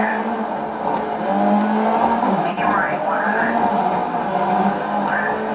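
Racing cars in the video game GRID, played on an Nvidia Shield tablet, roar with engine notes and brief rising tire squeals, while someone talks over the game sounds throughout.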